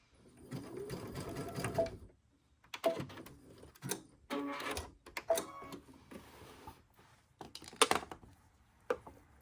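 A sewing machine back stitching while making a rope bowl, running in several short bursts separated by pauses, close and clear.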